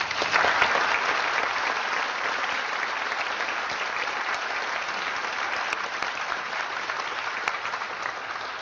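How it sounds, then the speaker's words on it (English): A large audience at a theology debate gives a sustained, even round of applause for the guests, dense clapping holding steady without pause. "may I have a round of applause for our guests?"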